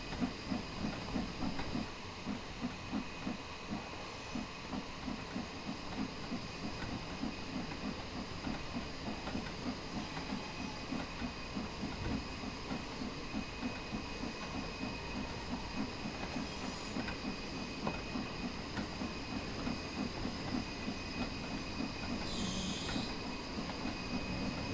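A British steam locomotive hauling a string of coupled wagons along the rails and gathering speed up an incline, with a steady rhythmic chuffing and wheel clatter and a constant background hiss, fairly close and continuous.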